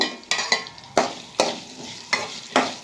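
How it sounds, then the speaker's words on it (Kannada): Fennel, cumin and onions frying for a chicken curry crackle with a steady sizzle, broken by about seven sharp scrapes of a spatula stirring through the pan at close range, with no voices. "ಅದು ಎಲ್ಲ ಫ್ರೈ ಮಾಡ್ಕೊತೀನಿ"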